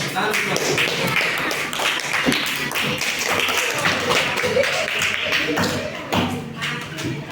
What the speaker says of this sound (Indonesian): Nah, sekarang beri aplaus dulu untuk kalian semua